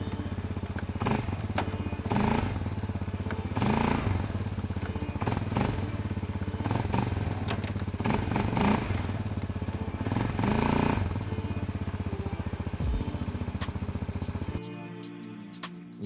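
A Loncin XWolf 700 ATV engine idles and revs steadily up close, with a series of rhythmic clunks and revving surges as gears are shifted, the engine tone dropping away at the end.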